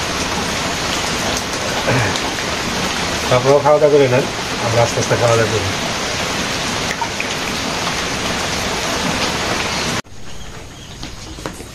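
Steady rain patters and hisses throughout at a village house, with a voice speaking over it for a few seconds partway through.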